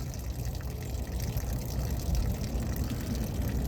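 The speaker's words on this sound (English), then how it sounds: "Yeah, draining the water." Water drains steadily from a vehicle's tank in a continuous close gush and trickle, rough and slightly uneven, with no voices.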